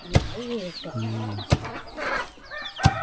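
Chickens being fed rice: several close clucks and short calls, with sharp knocks or pecks and a few brief wing flaps, over a busy outdoor background.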